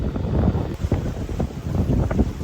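Sailboat under way in strong southwest winds off Maui, heading toward Wailea, with heavy gusty wind buffeting the microphone and rushing water beneath, no voices.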